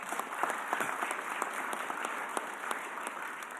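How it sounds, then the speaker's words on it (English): Steady applause from the audience at a mayor's press conference, a fairly soft, even patter of many hands with individual claps standing out, continuing without pause throughout. "you deserve a round of applause"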